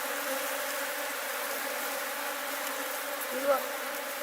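A steady, dense hum of many honeybees buzzing together in a defensive ball around a giant hornet, continuous and close, with no other sounds.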